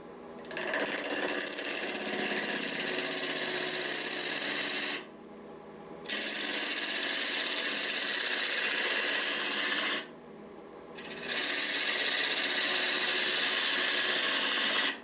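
Bowl gouge cutting end grain on a wood lathe as a natural edge vase is shaped, a steady loud scraping whir in three long runs broken by two brief quieter pauses.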